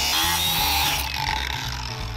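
A power tool cuts through a rusty bolt with a loud, steady high-pitched grinding whine that holds for about a second and then drops lower as the cut continues.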